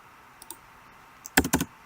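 A computer mouse clicks a few times at close range: one faint early click, then a quick cluster of three or four crisp clicks near the end against quiet room tone.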